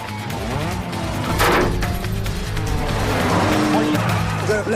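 A car speeds away from police in the film Death Race 2, with a loud engine roar, tire squeal and skidding, and a sharp crash-like burst partway through, under continuous narration.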